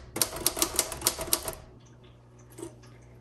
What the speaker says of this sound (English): So this is an excellent typewriter